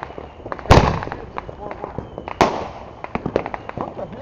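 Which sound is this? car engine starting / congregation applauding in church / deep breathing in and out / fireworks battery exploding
fireworks battery exploding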